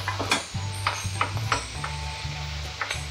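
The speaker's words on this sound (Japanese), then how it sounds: "ベーコンもいい焼き色ついてきましたね。" Bacon frying on a camp grill at a campsite while burger patties cook, a steady close sizzle with scattered small pops and ticks, no voices.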